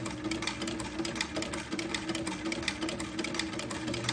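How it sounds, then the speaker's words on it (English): A sewing machine fitted with a vintage buttonholer attachment stitches buttonholes on a baby daygown, a quiet rapid mechanical whirring and ticking with a steady motor hum, close up and without talking. "If you've never seen me use this vintage buttonholer before, I love it because it makes perfectly exact size buttonholes each time"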